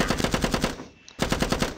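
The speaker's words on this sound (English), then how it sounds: "This is just typical gunfire" Rapid automatic gunfire from a zombie defence video game, loud and close, with a tight rhythmic burst, a brief pause, then another fast burst.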